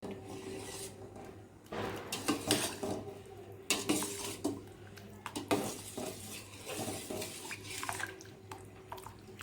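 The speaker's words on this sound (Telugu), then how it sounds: "ఇట్లా కలుపుకుంటూ ఉండాలి" Rice rava and moong dal are stirred in a steel pot on the stove, with a spoon scraping and clinking against the metal in irregular bursts over a low steady background hum.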